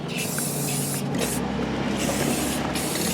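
A spray paint can hisses in short bursts, loud and close, a steady airy spray with brief pauses during a brake service on a 2011 Hyundai Elantra Touring; no talking.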